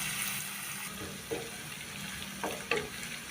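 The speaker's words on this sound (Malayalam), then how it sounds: "അപ്പോൾ നമുക്ക് ഈ അരിഞ്ഞു വെച്ചിരിക്കുന്ന ഉള്ളി ഇട്ട് കൊടുക്കാം." Chopped onions frying in hot oil for a prawn and mango curry, a steady soft sizzle with faint stirring scrapes, quiet and close, no talk.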